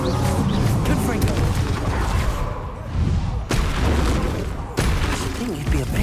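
Confringo spell explosions in the video game Hogwarts Legacy, repeated heavy booming blasts with crashing impacts, dense and loud, one sharp hit midway, layered over constant combat noise and a voice calling out.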